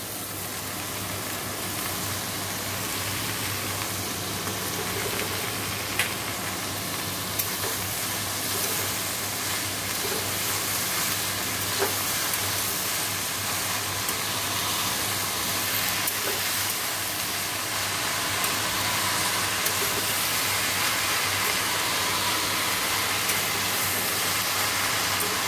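Greens and vegetables fry in a pan with a constant broadband sizzle that stays steady and fairly even, with occasional faint pops and no talking.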